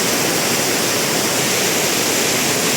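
A loud, unbroken roar of a waterfall rushing between two rocks close by at Maredumilli, filling the whole clip with no voices.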